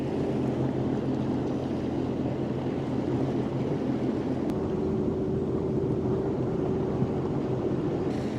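Sea-Doo personal watercraft cruising over water near a rocky Canadian shoreline, a steady, loud engine drone with constant wind and water rush, no voices.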